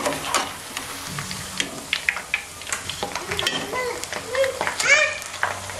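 A homemade evening snack fries in oil in a pan after being flipped, sizzling and crackling unevenly with occasional stirring clatter, while children's voices and chatter come and go nearby.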